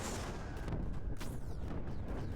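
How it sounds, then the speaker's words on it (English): Explosions and bursts of gunfire-like booms from the strategy video game Creeper World 4, a dense continuous barrage of overlapping blasts at steady loudness throughout, with no talking. "there was a bunch of explosions going off"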